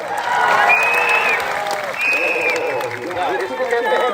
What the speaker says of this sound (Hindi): आपको ताली भी बजानी है, जोर से चिल्लाना भी है।